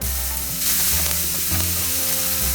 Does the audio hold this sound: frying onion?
yes